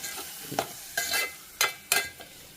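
Bitter gourd curry being stirred after tamarind juice is added, with four distinct scraping, swishing strokes of a spoon through the thick, wet mix in the pot, close and fairly loud, no voices.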